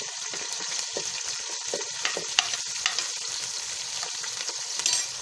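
Onions frying in a pan with chillies for Pakistani-style kadhi pakora: continuous bright sizzle with occasional stirring scrapes and small pops, close and steady, no voices.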